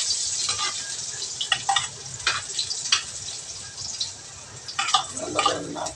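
Garlic sizzles in hot oil in a pan before taro stems are added for adobo, giving a close steady crackle with bursts of stirring and spatula scrapes, no talking.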